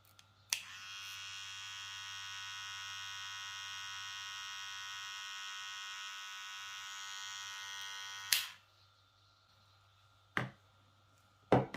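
A VGR hair clipper motor runs at full speed for about eight seconds, a steady high-pitched whirring buzz close to the listener that starts abruptly and cuts off sharply, followed by a few brief clicks and knocks.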